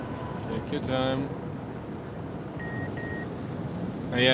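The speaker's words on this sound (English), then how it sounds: "when you get too close to a car, it thinks you're driving into the car, it beeps" Short high electronic beeps chime from a Mercedes EQA collision warning during Autobahn driving, two brief tones over road and cabin hum, with people talking inside the car.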